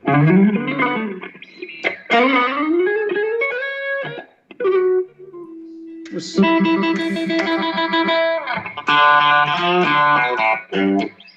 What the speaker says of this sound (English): Is your GV Wood kind of like mine, where you can actually coax some beautiful telly style tones out of it?